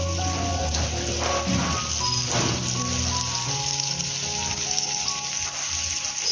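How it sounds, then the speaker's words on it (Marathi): Stuffed pomfret fish fries in a pan with a steady, hissing sizzle that runs evenly throughout, close and fairly loud, with no talking. "फ्राय करून घ्यायचं."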